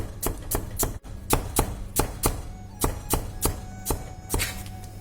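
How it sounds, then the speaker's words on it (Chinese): A knife slices peeled potatoes into thin pieces on a board, making about a dozen crisp, evenly spaced cuts up close. "首先把土豆削皮洗净，然后切成稍微薄点的片啊"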